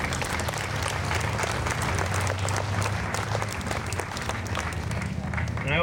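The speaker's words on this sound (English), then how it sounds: "Can we please have a round of applause for them?" Audience applause at a First Friday community evening in Towanda, PA, a steady, dense clapping from a crowd that holds at an even level throughout, with a low murmur of voices underneath.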